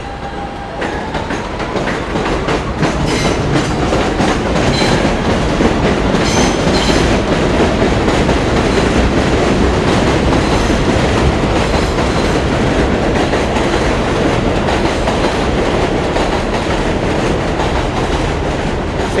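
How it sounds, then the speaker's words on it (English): An F train rolls along an elevated steel structure over a Brooklyn avenue, a loud continuous rumble with rhythmic clickety-clack of wheels on the rails that holds steady for the whole stretch. "Seems like the F train's running pretty well today."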